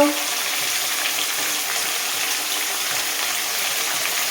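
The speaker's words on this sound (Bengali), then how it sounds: "এমনি লাল লাল করে ভেজে নেব।" Chicken pieces fry in hot oil, producing a loud, steady close-up sizzle that hisses evenly without a break and with no talking.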